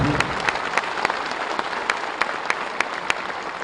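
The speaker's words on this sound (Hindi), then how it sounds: "एक बार अपने स्थान पर खड़े होकर के जोरदार तालियों के साथ आदरणीय मुख्यमंत्री जी का स्वागत करें" Loud applause from a seated crowd at an Uttar Pradesh government appointment-letter ceremony, greeting the chief minister; dense steady clapping with sharp individual claps standing out throughout, no talk over it.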